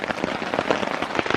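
Heavy monsoon rain pelts a tent and tarp, a dense, loud, close patter of crackling drops with no let-up.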